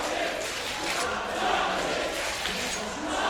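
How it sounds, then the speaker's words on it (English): Crowd noise at a live CS:GO LAN esports event, a steady broadband roar of cheering that swells slightly midway and holds throughout without pause. "Crowd are really loving this"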